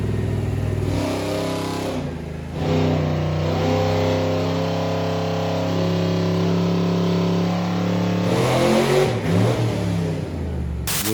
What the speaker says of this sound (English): they had this on the dyno for us last week